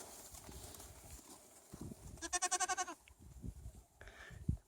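A goat gives a short, wavering bleat close by on a farm during a kidding-season check, heard over rustling and shuffling movement among the livestock.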